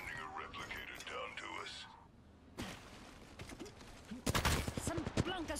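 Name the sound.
gunfire from the video game Apex Legends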